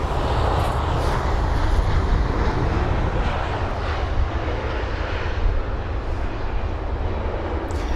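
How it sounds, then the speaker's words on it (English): An Airbus A319 passes at Heathrow, giving off a steady, fairly close jet engine rumble and hiss that holds without a break and stands alone with no talk. "That's the A319."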